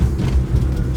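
A 1994 Mitsubishi Minica Toppo kei car with a 660cc engine and automatic gearbox, lowered custom build, driving around the block, a brief low engine rumble and road noise heard from inside.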